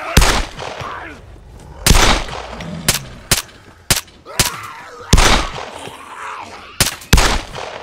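Gunfire in the video game Arma 3, a series of sharp, loud, separate shots spaced irregularly, some in quick pairs, with someone talking quietly between them.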